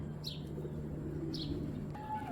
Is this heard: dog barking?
no